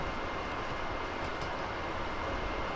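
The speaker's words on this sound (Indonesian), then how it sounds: "Kayaknya ini kereta yang diprolog deh." A moving train in the Uncharted: Drake's Fortune video game gives off a continuous broadband rumble and rattle at a steady, fairly quiet level, with no speech.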